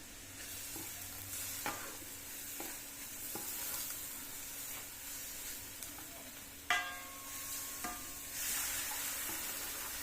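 Potatoes and masoor lentils stir-fried together in a pan, soft scraping and occasional clinks of a spoon over a faint, steady sizzle, quiet and close with no voices.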